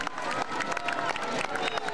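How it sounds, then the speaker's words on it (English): Crowd applause at a high school homecoming football game, a dense, steady burst of clapping and cheering from the stands filling the short moment. "Past Upley graduates, a big round of applause."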